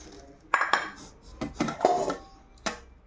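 Dishes clink and clatter as a steel meal plate is set out at home, several sharp metallic knocks and rings spaced over a few seconds in a quiet room.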